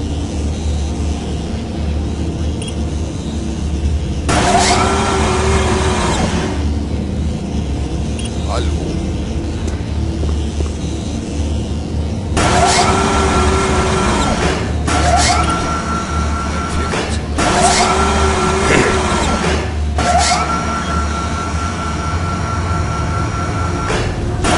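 A tram in the video game Doom 3 rumbles toward a station with a constant low mechanical drone, broken by several louder screeching, clattering bursts; someone talks over it.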